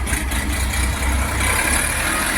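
The engine of an Orion RD 244 tractor on wide tires runs steadily during a test, a continuous close rumble with a low throb and no change in pace, alone without talk.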